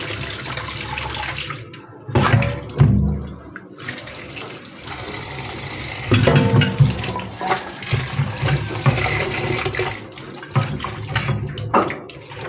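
Running water pours from a tap while fish are being washed, in bursts of splashing flow that start and stop, the strongest around the middle, with rattling and handling noises between.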